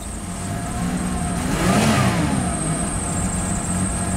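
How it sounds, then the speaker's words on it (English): A car engine labours to rev, its drone climbing in pitch and loudness around the middle before settling back to a steady rough run. It stays close and continuous with no voices. "Oh, it doesn't even want to rev up."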